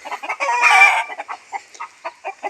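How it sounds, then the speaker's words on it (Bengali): Chickens on a farm cluck on a hot day, close and loud. One long, raspy squawk opens into a string of short, evenly spaced clucks. "তোরা ডাকছিস কেন? কি হয়েছে গরমে?"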